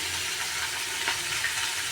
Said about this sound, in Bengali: এগুলাকেও আমি একটু সময় ঢাকা দিয়ে ফ্রাই করবো যাতে একটু নরম হয়ে আসে বেগুনগুলো